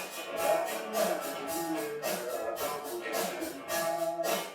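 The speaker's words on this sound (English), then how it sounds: "just the reverb alone sounds like this." Isolated reverb return from a band practice mix in REAPER: a washy, diffuse wall of smeared instruments and cymbals, steady and moderately quiet without the dry signal.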